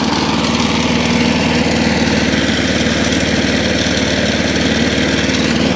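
A lawn mower engine that is running slow runs steadily and loudly up close, with an even, throbbing drone and no break or change in pace throughout.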